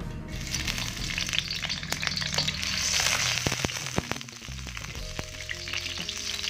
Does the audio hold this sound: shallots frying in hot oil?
yes